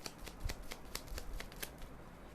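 A deck of tarot cards being shuffled by hand: a quiet, close riffle of quick, regular flicks and slaps lasting a couple of seconds.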